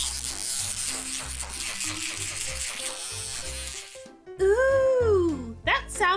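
An electric toothbrush buzzes steadily at close range, then a voice imitates the buzzing with a sliding hum; the real hum runs continuously under music and a voice.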